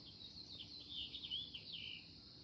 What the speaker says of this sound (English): Hear that bird singing?